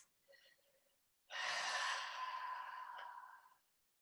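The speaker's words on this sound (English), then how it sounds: "Listen to the sound of your breath." A single slow, audible breath during a gentle yoga session: a soft short inhale, then a long breathy exhale that fades out, close and quiet with no talk.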